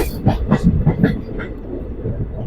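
A train rolls slowly along forest tracks, its wheels giving a few uneven clunks over rail joints, with a person talking over the moderate, steady rumble.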